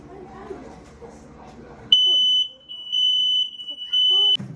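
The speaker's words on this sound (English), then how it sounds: "This is the 6th smoke detector." A household smoke detector emits loud, piercing high-pitched beeps in long repeated tones, following a short stretch of voices and room noise.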